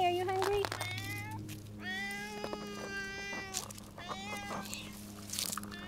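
Several hungry house cats meow repeatedly before feeding, a string of drawn-out, rising and falling cries close by, overlapping at times, with a person talking among them.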